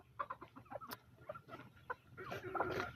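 Chickens cluck in short, scattered bursts while being fed on a rainy morning, faint and somewhat distant, with a busier flurry of clucks toward the end.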